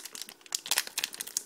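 Korean Pokémon booster pack being torn and crinkled open, a rapid run of close, crisp foil crackles and rips with no talk.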